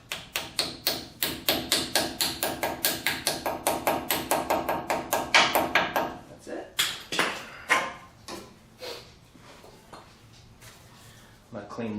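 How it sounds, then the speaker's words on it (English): A dust cap tapped onto a lower ball joint on a 2004-2014 Ford F-150, a steady run of sharp metallic taps at a quick even rhythm that slows into spaced, heavier knocks, with a voice speaking underneath. "Let's get our little dust cap back onto here."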